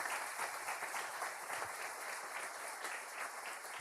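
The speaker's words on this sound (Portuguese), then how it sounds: "Vamos acolhê-los e agradecê-los com uma salva de palmas bem forte." A congregation at a Catholic Sunday Mass applauds in the church, a sustained, even roar of many hands clapping together with no voices standing out.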